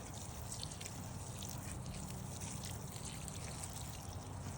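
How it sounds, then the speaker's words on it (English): Water pours steadily onto dry shredded cardboard bedding in a wooden worm bin, a quiet continuous trickling and splashing hiss that stays even throughout, with nobody speaking. "since this is quite dry, I'm going to add quite a bit of water to that"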